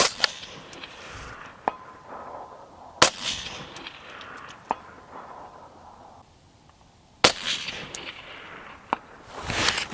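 Rifle shots from an AR10 precision build in 6.5 Creedmoor fired outdoors at long-range targets: four sharp, loud cracks spaced a few seconds apart, with ringing metallic target hits and quiet gaps between.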